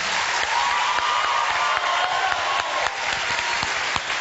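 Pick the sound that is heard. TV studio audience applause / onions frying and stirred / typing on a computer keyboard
TV studio audience applause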